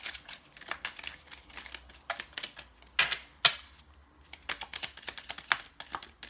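Tarot cards riffle and slap in quick, uneven bursts, a soft papery shuffling close by in a quiet room.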